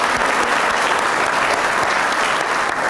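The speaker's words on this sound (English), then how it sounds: "Why don't we give all of our sponsors another hand clap for their participation here." Dense, steady audience applause fills a college hall during a career and technical education signing day, a continuous wash of many hands clapping for the sponsors.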